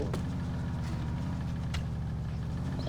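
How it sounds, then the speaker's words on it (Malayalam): A steady, low engine drone from an old scrap car in GTA IV, idling continuously at moderate level with no talk over it. "എഞ്ചിൻ എല്ലാം പഴയതാണ്."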